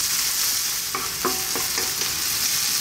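Onions, garlic and ginger fry over high heat with a loud, dense, continuous sizzle, and a few brief clicks and scrapes from a utensil stirring the pan.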